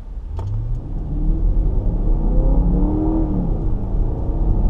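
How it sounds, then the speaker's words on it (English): Range Rover L322 accelerating hard, a deep, rising engine rumble with gear changes heard from inside the cabin, continuous and fairly loud. "Range Rover shifting smoothly now. Accelerating hard, actually."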